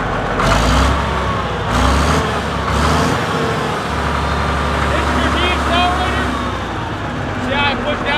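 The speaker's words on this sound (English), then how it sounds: "See how I push down on that, it revs it back down to an idle" Caterpillar bulldozer engine throttled up and then back down toward idle, a loud low rumble that rises in surges and settles, with someone talking over the machine.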